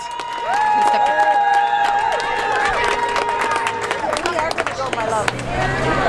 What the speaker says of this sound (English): So big round of applause for everybody here, and thank you very much.